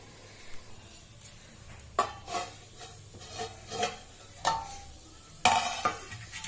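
A spoon stirs Genhari saag greens in a pan with light scrapes and clinks against the metal, a few distinct strokes over a faint sizzle, close by.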